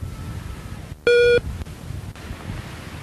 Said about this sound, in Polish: Po usłyszeniu sygnału zostaw wiadomość.